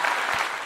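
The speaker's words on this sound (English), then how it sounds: "I'm gonna clap to you." A single person clapping hands, a brief burst of claps close up with no talk over it.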